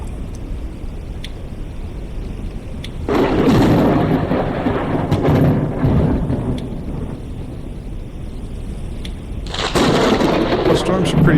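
Thunderstorm in the video game Forever Skies, with a steady wash of rain and wind. A heavy rumble of thunder rolls in around three seconds and another swells near the end, with faint talk in the background.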